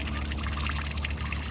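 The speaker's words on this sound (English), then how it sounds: "The grey water drain is just here." Grey water trickles steadily from the outside drain of a 2021 Benimer Tessoro T481 caravan, a continuous close-up dribble with no talking.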